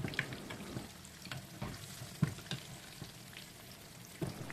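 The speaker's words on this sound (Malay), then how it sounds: "kuali Kak Jij ni dia melekat lah. agak melekat sikit. Terpaksa korek-korek sikit kat bawah tu." Food being scraped and dug loose from the bottom of a sticky frying wok, soft irregular scrapes and taps over a faint continuous sizzle, close and quiet.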